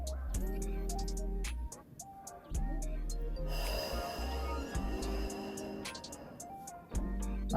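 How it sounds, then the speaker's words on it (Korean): Slow guided breathing, drawn in through the nose and let out through the mouth, comes as soft airy breaths over gentle steady background music. "코로 마시고 입으로 내쉬고"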